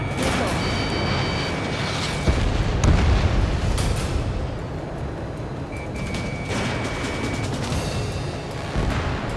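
Missile explosions in the Ace Combat 7 combat flight game, booming a few times under steady jet engine roar, with cockpit radio chatter and warning tones over the top.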